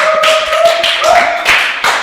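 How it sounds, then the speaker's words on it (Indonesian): Audience clapping at a national Indonesian student competition event (PIMNAS), a loud, choppy burst of hand claps over a steady sustained tone, lasting about two seconds. "boleh kasih tepuk tangannya dong"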